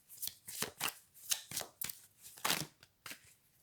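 A deck of cards is shuffled for a card reading. Soft, close, quick flicking and riffling snaps come in an uneven rhythm at low volume, with no speech.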